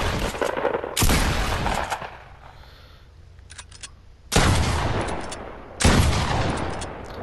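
Pump shotgun fired in Fortnite, three heavy blasts spaced a second or more apart, each loud and close, with a short rattling tail and quieter gaps between.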